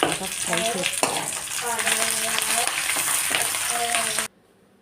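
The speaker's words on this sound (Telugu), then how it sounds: "అలాగే తీసుకున్న జీలకర్ర వేసుకొని బాగా ఫ్రై చేసుకోవాలి." Garlic and cumin seeds fry in a pan with a loud, steady sizzling hiss over faint background tones, then stop abruptly near the end.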